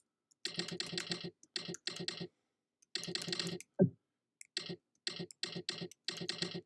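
Typing on a computer keyboard during a typing test: quick bursts of crisp key clicks in short runs separated by pauses, with one duller knock midway, close and fairly quiet.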